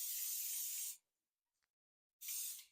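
Nonstick cooking spray sprayed onto a cake pan in two steady hissing bursts, each about a second long, separated by a brief pause, close and clear with no talking.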